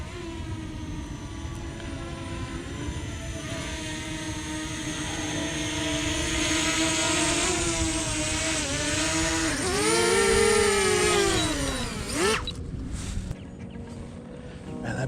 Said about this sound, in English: You can hear her firing up when you move her around.